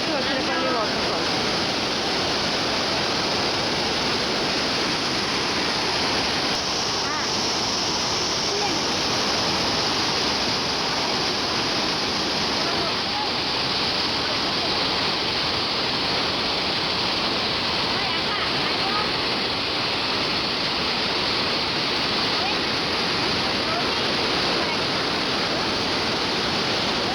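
Vazhachal waterfall near Athirapally roars as a dense, steady rush of falling water, loud and continuous from start to finish, with no break or other sound standing out.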